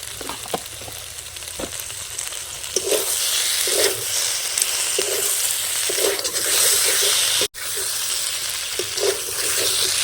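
Cumin and coriander powder frying in a pan, giving a continuous loud close sizzle with occasional spatula stirring scrapes and one brief dropout partway through, no talking.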